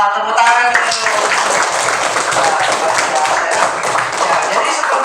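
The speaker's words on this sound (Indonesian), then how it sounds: "Wah, tepuk tangan dulu." A group of teachers in a Makassar classroom session on Pancasila clap together, with steady dense applause for about five seconds, mixed with a few voices and a tonal sound at the start.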